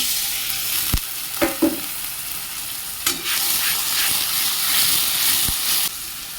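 Onion paste with ginger-garlic paste and a splash of water fries in a pan with a loud, steady sizzle and hiss. A few sharp clacks of stirring break in now and then, and there is no talking.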